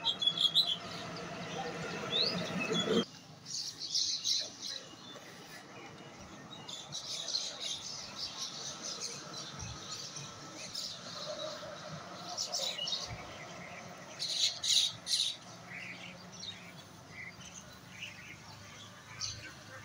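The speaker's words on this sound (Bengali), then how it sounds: "অনেক পাখি একসাথে বাসা করে এখানে বসবাস করতেছেন।" Many birds at a crowded colony of nests chirp and twitter together in bursts, with busy, overlapping calls close by and faint background noise throughout.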